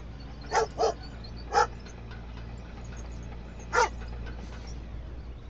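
A dog barks at someone running across the street, giving a few sharp, close barks: a quick pair, a single bark a moment later, then one more after a pause, over a steady low background hum.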